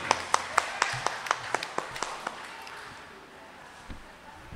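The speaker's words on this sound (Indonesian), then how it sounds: "Tepuk tangan untuk panitia dulu." A brief burst of clapping from a small crowd, sharp claps fading after a few seconds into quiet room noise.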